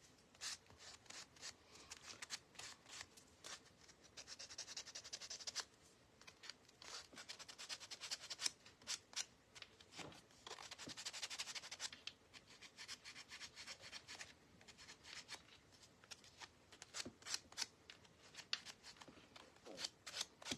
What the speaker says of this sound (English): All you need to do now is just sand it.